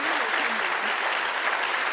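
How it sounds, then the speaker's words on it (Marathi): Steady, full audience applause at a live event, with many hands clapping evenly and continuously throughout. "आपण सर्वांनी मला वाटतं जोरदार टाळ्या एकदा वाजवूयात ह्या कपलचं आणि त्यांच्या टीमचं"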